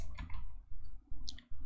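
A computer mouse clicks a few times while a web dashboard app is being navigated; the clicks are quick and soft, with a low hum underneath and no talking.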